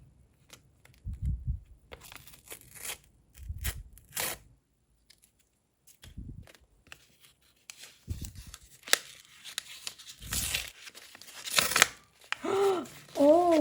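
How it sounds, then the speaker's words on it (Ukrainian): A small paper blind packet from a Minecraft-themed paper unboxing is torn and crinkled open indoors, with several short ripping bursts and rustles between pauses, close and moderately loud. "Відкриваємо другий пакетик з котиком"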